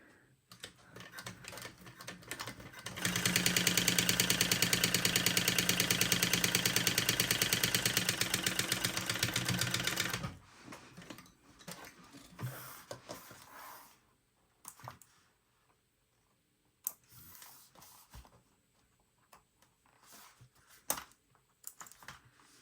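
A sewing machine runs a continuous top-stitching pass across the top of a lined piece, a steady rapid needle chatter for several seconds followed by scattered fabric handling and small clicks.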